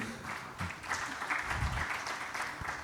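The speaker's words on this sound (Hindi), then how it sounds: "जोरदार ताली बजा के" Steady applause from a crowd, a continuous wash of clapping that holds at an even level throughout.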